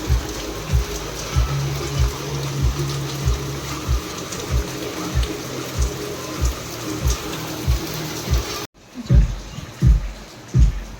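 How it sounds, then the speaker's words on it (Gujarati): Steady rain pours down amid a cold wind during a strong storm, a dense hiss with dull low thumps throughout; the wash cuts out sharply near the end, then returns with a few heavier knocks. "વરસાદ પડે છે ને અહીંયા આઈસ્ક્રીમ ખવાય છે."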